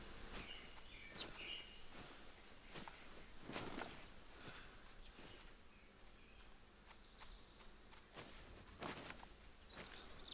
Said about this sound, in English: I hear him again. I hear footsteps.